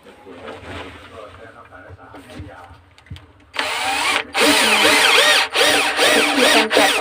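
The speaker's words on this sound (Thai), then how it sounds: "แท้สว่านยิงเลยค่ะเจาะรู เจาะรูทะลุฝั่งเดียวนะคะ" Talk at first, then a loud power drill bites in and runs steadily, whining with brief pauses as it bores through material close by.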